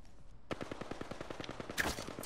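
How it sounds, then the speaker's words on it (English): Rapid automatic gunfire from squads fighting in a battle royale game, a rattling burst of evenly spaced shots that starts abruptly and runs steadily, mid-distance and fairly loud, with a brighter louder crack near the end. "Are they fighting somebody else or are they shooting you?"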